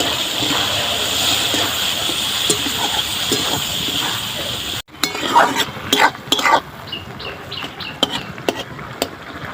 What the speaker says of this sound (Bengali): চিংড়ি মাছ, দুটো একসঙ্গে আমি ভেজে নেব।